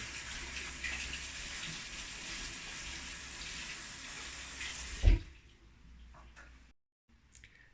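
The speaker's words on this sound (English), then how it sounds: "I'm going to give it a real quick rinse, maybe a 20-second rinse" Running water pours steadily while RA-4 photographic paper is rinsed under it, a continuous close wash that stops abruptly after a brief splash, leaving near silence with a few faint drips and clicks.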